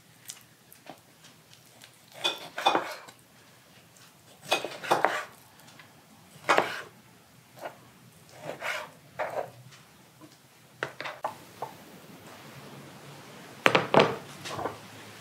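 Pork chunks dropped into glass mason jars for home canning, giving a series of clinking, knocking thuds at uneven intervals, close and moderately loud, with brief pauses between.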